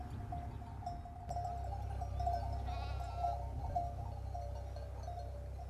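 Lambs bleating in a mountain pasture at 974 metres near Ekinciler village in Göynük, Bolu, Turkey; a few thin bleats rise faintly over a steady low rumble and outdoor noise.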